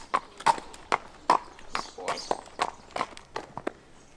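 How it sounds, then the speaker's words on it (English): A horse walks away from a mounting block, its hooves giving a series of distinct, close clip-clop steps on a hard surface, with voices talking in the background. "we're going to ask Stilton to move from the block."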